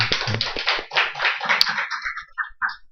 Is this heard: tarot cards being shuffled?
no